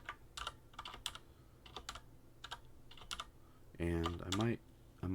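Quick keystrokes tap on a computer keyboard in short irregular bursts while Java code is entered, close and crisp, and a voice speaks briefly near the end.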